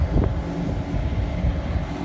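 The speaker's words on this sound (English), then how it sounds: "I know it is windy" Wind gusting across a microphone on a windy farm field, a steady low rumble and buffeting, close and loud, without talk.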